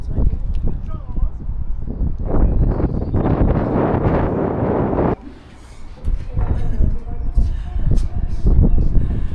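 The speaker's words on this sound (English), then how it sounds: "it is windy up here" Strong wind at a high viewpoint in Bristol buffets the microphone in loud rumbling gusts while a person talks over it, with a brief lull partway through.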